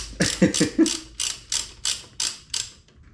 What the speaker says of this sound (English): we're gonna torque it down to 28 foot-pound with my massive torque wrench